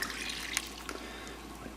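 A water and honey mix is poured into bread dough in a home kitchen, a steady splashing trickle with small drips, close and continuous.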